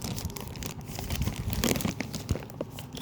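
Plastic bag crinkling close by, continuous rustling and crackling handling noise throughout, fairly loud and dense.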